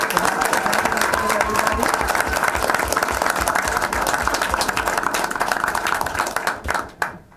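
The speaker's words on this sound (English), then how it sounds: "Let's give them a huge round of applause." An audience at a school board meeting gives fourth graders a loud, dense round of applause that carries steadily for several seconds before tapering off at the end.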